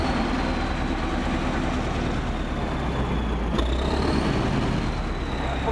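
T-130 bulldozer diesel engine running steadily with a deep low rumble that rises slightly in revs midway, continuous and fairly loud with no talk.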